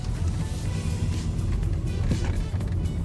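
A car rolls into a car park at the Eiffel Tower replica in Bahria Town, Lahore, Pakistan, with a steady close engine and road rumble throughout and no talking.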